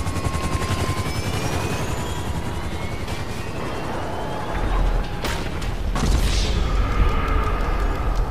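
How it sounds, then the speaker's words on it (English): Multiple helicopters in a GTA Online aircraft battle drone with steady rotor chop, overlaid by whooshing passes and sharp bursts of gunfire or explosions that swell louder toward the end. "how many helicopters are in the air currently"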